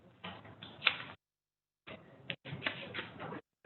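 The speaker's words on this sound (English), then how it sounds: "Everybody else still typing?" Keyboard typing during a group meeting: soft, quick clicks in short irregular bursts separated by pauses of silence, faint and close.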